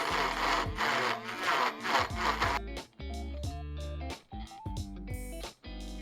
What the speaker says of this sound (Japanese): ちょっと欠けてる部分は気持ち削ってみるよ。